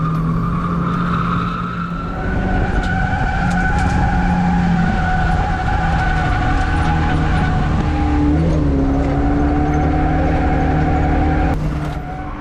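A car drifts on a drift day, its engine droning and revving while tyres skid and squeal in long sweeping tones, loud and close, with a sharper slide near the end.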